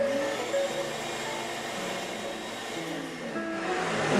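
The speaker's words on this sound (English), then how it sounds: "use a blower end of a shop vac and just blow some air into the bag to get it to open up." A shop vac's blower end pushes air into a bag, giving a steady, fairly loud whooshing motor drone that holds throughout with no talk.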